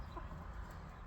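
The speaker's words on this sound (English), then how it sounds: "The little chickens are still eating breakfast." Small chickens cluck softly and steadily while feeding in the morning, the low chatter close by and continuous over a busy outdoor background.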